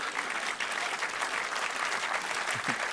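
A live audience claps loudly and continuously, a thick, even roar of hands lasting the whole moment.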